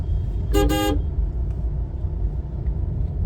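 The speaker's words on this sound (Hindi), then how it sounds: "ये जीरकपुर का ट्रैफिक है।" Car horn honks twice in quick succession over steady rumbling road traffic in Zirakpur during rush hour, the horn loud and near against a continuous low engine drone.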